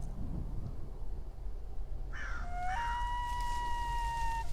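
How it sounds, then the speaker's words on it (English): Ambient crow cawing in an Unreal Engine 4 survival game: one short caw rises over a steady low wind-like rumble, followed by sustained high tones. "you got a crow over there somewhere, which doesn't actually exist"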